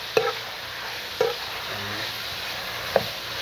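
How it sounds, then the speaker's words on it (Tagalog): Beef and gizzard sautéing in a pan for ginataang, a soft steady sizzle broken by three sharp clinks of a utensil against the pan, with no talking. "To saute"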